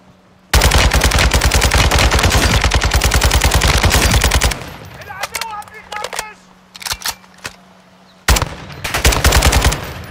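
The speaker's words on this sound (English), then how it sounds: "See how many bullets I dumped in that guy?" Call of Duty MW2 machine gun fire: a loud, sustained automatic burst rattling for about four seconds, then scattered shots and game clatter, before another heavy burst of rapid fire closes things out.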